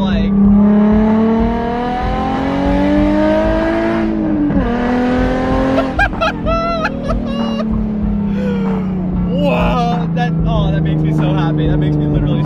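A loud car engine drones and revs nearby, its pitch rising and falling across the clip while people talk excitedly over it.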